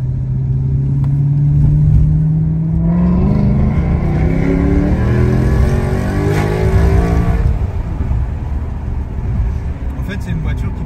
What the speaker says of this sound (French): plus tu accélères, plus tu amplifies le bruit